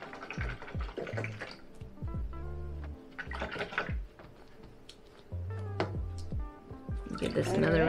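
A paintbrush is rinsed in water, giving faint splashing and swishing that runs beneath steady talk.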